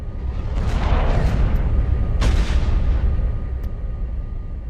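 Weapons and artillery fire in a Star Wars space-combat video game, with a dense rumbling barrage and a sharp loud blast near the middle over continuous low roar.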